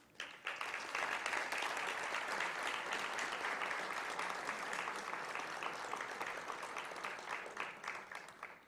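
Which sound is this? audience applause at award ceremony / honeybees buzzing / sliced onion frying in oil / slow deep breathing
audience applause at award ceremony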